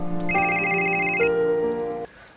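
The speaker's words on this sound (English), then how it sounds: "I had this phone call." A telephone rings with a bright electronic ringtone, a sustained chord of layered tones lasting about two seconds before cutting off abruptly, heard alone without talk.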